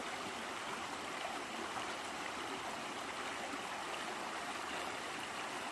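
Water of the Upper Priest River rushes steadily, a constant broad hiss and gurgle with no pauses.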